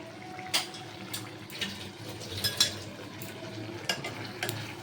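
Taro leaf greens stirred in a pan, with quiet spoon scrapes and light clinks repeating every second or so over a low background hiss.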